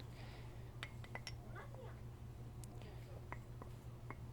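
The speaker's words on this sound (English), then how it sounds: "obviously the sound of espresso and steam and cups" Small cups and glassware clink several times in quick, scattered taps beneath a low hum and soft murmuring voices, all fairly quiet.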